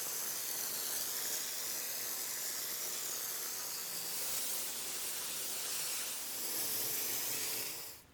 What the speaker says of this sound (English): I'm using my go-to Fishtone GFRC concrete mix, where I spray in a thin face coat